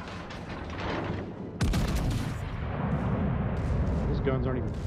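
Naval guns firing in the warship game World of Warships: Legends, a heavy booming blast about a third of the way in over continuous rumbling battle noise, with a person talking over the game sounds.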